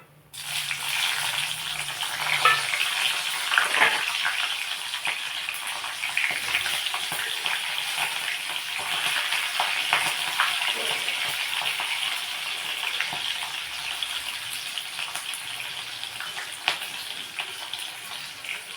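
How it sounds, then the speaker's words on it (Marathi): Chana dal and spinach bhaji fritters deep-frying in oil, giving a continuous hissing, bubbling sizzle that stays close and fairly loud throughout, with no voices. "आता ही भजी पण आपण तशीच तळून घेऊ"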